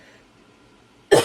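One sudden, sharp cough bursts out near the end after near silence, loud and close.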